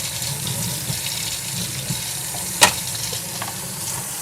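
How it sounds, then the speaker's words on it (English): A metal stencil held under a running kitchen tap, a steady close hiss of flowing water splashing into a sink, with one brief clatter partway through. "I'm gonna put this under water"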